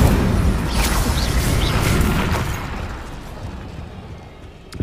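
A fire spell blasts out in the video game Hogwarts Legacy, a loud roaring, crackling burst that fills the opening seconds and then fades, with a small pop at the very end.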